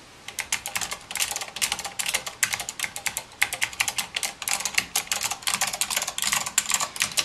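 Rapid, steady keystrokes on a keyboard with Blue Alps switches mounted on a bare PCB and plate with no case, each clicky press crisp and close, continuous for the whole stretch.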